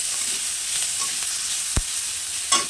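Mustard oil sizzles gently in a frying pan with a faint steady hiss, punctuated by a sharp tap and a brief louder crackle near the end.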